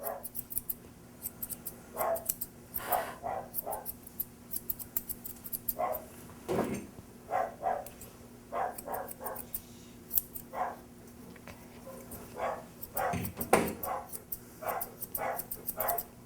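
Dogs bark intermittently in the background of a grooming kennel, distant and fairly faint, while close scissor snips come in steady irregular bursts throughout.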